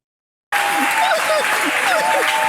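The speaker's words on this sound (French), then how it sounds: "tout le monde applaudit" A TV studio audience breaks into sudden, loud applause after a moment of silence. The clapping is steady and dense, and voices and laughter can be heard over it.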